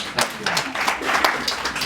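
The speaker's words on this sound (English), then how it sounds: "Round of applause for Lauren." An indoor audience at a property and tax presentation claps for the presenter's assistant, steady scattered applause throughout with a voice mixed in.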